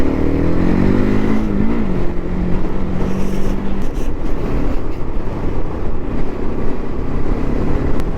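A Fantic Caballero 500 motorcycle rides off-road along a green lane, its engine loud and close throughout, with revs climbing early on under steady wind and road noise.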